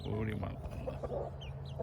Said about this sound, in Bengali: এদের মুরগিগুলো বিরাট মোরগ